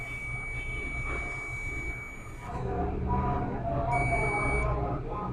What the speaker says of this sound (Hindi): देखें मल्टीमीटर बज़र दे रहा है तो कॉइल अपने कनेक्शन में है।